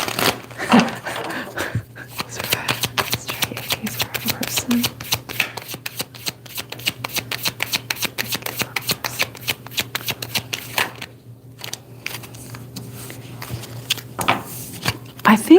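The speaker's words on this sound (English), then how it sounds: "Ooh, the cards. I gotta shuffle." Tarot cards are shuffled in rapid, repeated riffling bursts, close and crisp, with brief pauses between rounds.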